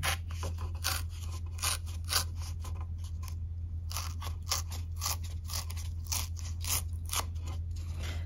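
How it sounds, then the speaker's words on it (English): A card base and a piece of early espresso cardstock are torn together, making a series of short, crisp rips and crunchy paper bursts in irregular bursts, close up over a low steady electrical hum. "So we're tearing both the card base and this little piece of early espresso cardstock."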